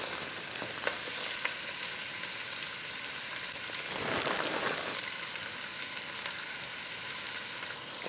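Onion and leeks fry in avocado oil and butter in a pot, giving a steady, fairly quiet sizzling hiss with brief crackles and a short swell of louder frying midway. No one speaks.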